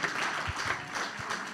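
Church congregation applauding to acclaim the Lord, a steady wash of clapping with a few low thumps, moderately distant and continuous through the short stretch.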